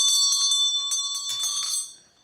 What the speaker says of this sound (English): It's like a doorbell, isn't it? Look it over the door,